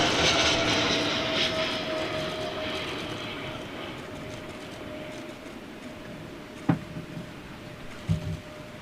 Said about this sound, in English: Oh, it's a flyby.